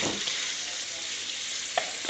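Pulao masala with carrots fries in a large pot of rice for a five-kilo chana pulao, a steady close sizzle with a faint scrape of stirring partway through and no voices.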